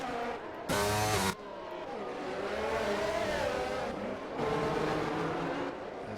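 Race cars in the F1 22 video game at Monaco scrape and bounce off the barriers amid a steady roar of engines, with a sharp, loud burst of impact noise near the start and another surge of noise later.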